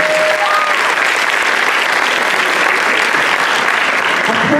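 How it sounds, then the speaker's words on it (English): Audience clapping at a school district ceremony honoring retiring teachers, a dense, steady wash of applause that fills the room evenly from start to finish. "Yes, you may clap."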